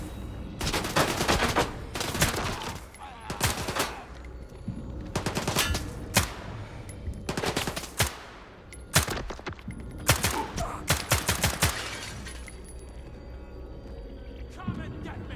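Rapid bursts of video game gunfire crackle in a swamp setting, coming in repeated clusters of sharp shots with brief gaps between volleys, loud and close throughout.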